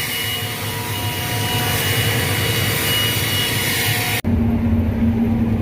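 A battery-powered blower whooshes steadily and loudly at close range while blowing debris off a combine harvester, then abruptly cuts out and gives way to a lower, different hum.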